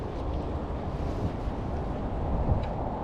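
Wind at a boat ramp at night, buffeting the microphone in a steady, low rumbling roar with small gusts, close and unbroken, with no voices.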